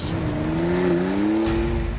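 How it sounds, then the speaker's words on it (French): A Porsche 911 Carrera GTS launches hard under launch control, its engine note climbing steadily in pitch with a brief break near the end, loud and close, with no talk over it. "Procédure launch control, à fond sur la pédale de frein, à fond sur la pédale d'accélérateur."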